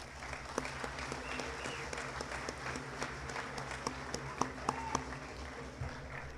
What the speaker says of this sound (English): If you would, give them all a round of applause.